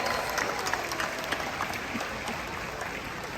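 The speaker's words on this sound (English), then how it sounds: "How about a round of applause for Katina, Nalani, Malia, and our audience volunteers?" A crowd claps steadily throughout a SeaWorld Orlando Orca Encounter killer whale show, a dense, even wash of applause from a large outdoor audience with no clear break.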